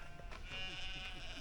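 A sheep bleats in a field on Corsica, one wavering, drawn-out cry from nearby that rises out of low background noise and then fades.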